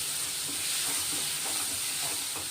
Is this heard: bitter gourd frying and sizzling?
yes